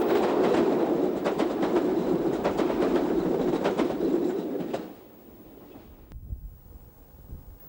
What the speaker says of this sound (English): 50044 is seen heading the 1024 Penzance to Liverpool service